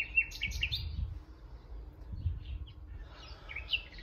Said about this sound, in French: profiter un petit peu de la douceur du jour et des chants des oiseaux